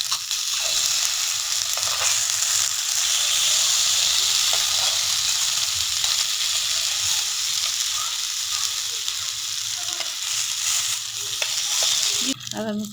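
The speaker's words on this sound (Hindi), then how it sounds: "हम उसमें कबाब फ्राई कर लेते हैं" Shami kebabs fry in a greased pan, a loud, continuous close sizzle and hiss that holds steady throughout, with faint stirring or shifting noises near the end.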